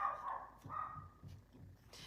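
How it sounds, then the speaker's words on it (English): Several dogs barking indoors, a run of short, moderately loud barks in uneven bursts with a higher yip near the end, no voices. "I do have 4 dogs. Did you know that? They usually bark at some point in time."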